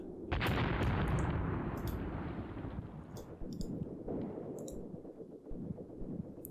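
Gunfire and heavy blasts from units in the Graviteam Tactics war game: a loud booming burst opens, followed by scattered sharp shots and rumbling impacts rolling on at varying distances.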